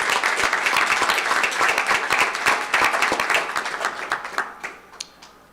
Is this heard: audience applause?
yes